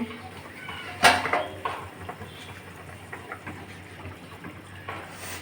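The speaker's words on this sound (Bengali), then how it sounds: "ঢাকনাটা খুলে নিচ্ছে" A lid lifted off a pot of rohu fish curry, a sharp metallic clank followed by a few lighter rattles and clinks over a low kitchen hum, close by, with no talking.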